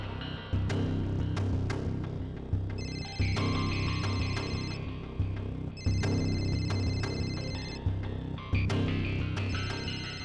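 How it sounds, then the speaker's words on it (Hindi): A phone rings in repeated electronic bursts, several rings with short gaps, fairly quiet and steady with no talk over it. "और ये जो बेल बज रही है"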